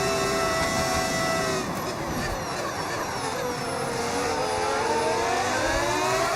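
A modded V10 Formula 1 engine in the F1 25 racing game drones loud and continuous, its pitch rising and falling through gear changes with a whine over the top.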